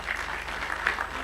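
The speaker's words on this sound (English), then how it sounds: "Please clap for them." A brief, soft patter of audience applause at a strategic blueprint launch event, many hands clapping at a distance.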